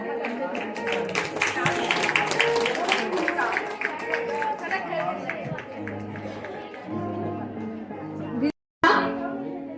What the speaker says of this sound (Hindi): अरे तालियां बजाओ यार।